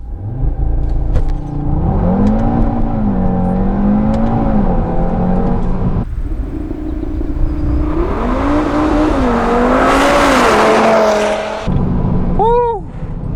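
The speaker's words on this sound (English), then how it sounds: "This might be the fastest acceleration I've ever experienced from a dig." A 2018 Audi RS3 with APR Stage 1 tune on E85, 542 hp, revs hard in a launch-control start and accelerates up through the gears with a loud, rising roar, heard from inside the cabin, ending with a shift.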